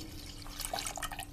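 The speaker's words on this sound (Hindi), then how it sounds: "4 गिलास इसमें मैं पानी डालूंगी" Water poured from a glass into a cooking pot for Rajasthani kadhi, a brief, faint splash and trickle over a constant low hum, with no one talking.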